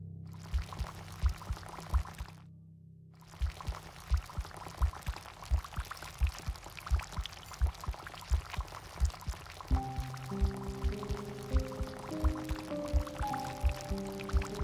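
Tea poured onto a young tree in the video game Centum, a soft liquid pour running under a steady rhythmic game soundtrack of repeating plucked notes, with a brighter melodic layer joining partway through.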